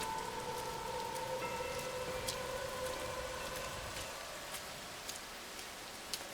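Steady rain falls continuously on a planet in the video game No Man's Sky, with scattered drips and light ticks over a soft hum, calm and unbroken, with no voices.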